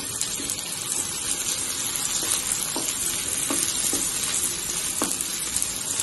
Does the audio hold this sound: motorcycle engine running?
no